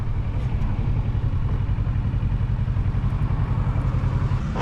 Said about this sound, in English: So many motorcycles out today.